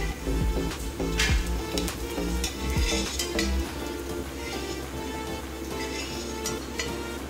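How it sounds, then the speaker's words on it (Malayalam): Small chopped coconut pieces fry in a pan with a steady sizzle, broken by repeated scraping and clinking stirs of a utensil against the metal, close and fairly loud. "ചെറുതായിട്ട് കട്ട് ചെയ്ത് വെച്ചിരിക്കുന്ന തേങ്ങാ കൊത്ത് ഇതിലേക്ക് ഇട്ട് കൊടുക്കാം"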